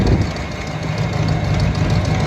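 A 1988 Ford F-250 that sat for over a decade idles loudly and close by, with a steady low rumble and a rough, slightly knocking pulse.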